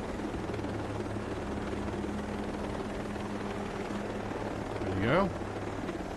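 A helicopter in the video game Ghost Recon Breakpoint drones with a steady low rotor hum, joined near the end by a brief rising whoosh, while someone talks.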